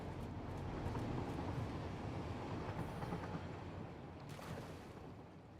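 Steady, rumbling train running in the factory-building game Satisfactory, a continuous low roar with faint rail clatter and occasional higher hiss, holding fairly level throughout.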